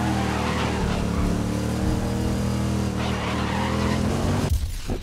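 Race cars in the racing video game Grid roar with engines and squealing, skidding tires, ending in an abrupt jolt as a crash breaks the steady engine drone near the end.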